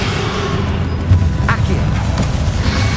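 The Confringo fire spell goes off in the video game Hogwarts Legacy during a dragon boss fight with Ranrok, a single sharp blast around the midpoint over dense rumbling battle noise, with a voice calling out amid the din.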